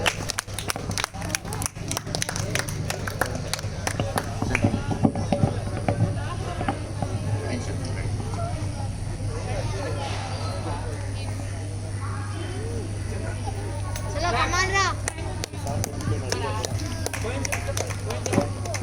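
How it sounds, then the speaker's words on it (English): An audience at a school event claps in a steady, rapid patter of many hands that runs through the whole stretch, swelling slightly near the end, with a speaker's voice over it and a constant low hum beneath. "Please clap."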